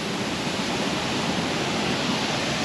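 Water rushes steadily in a stream, a loud, even broadband wash with no breaks and no voices over it.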